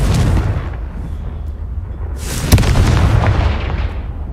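The Confringo fire spell in Hogwarts Legacy bursts with a heavy, booming blast and a sharp crack partway through, followed by a rumbling, roaring tail, loud and close with no speech.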